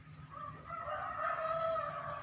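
A mature, no-longer-young rooster lets out a long, drawn-out crow at moderate distance, its strained tonal call rising and holding for about two seconds with no one talking.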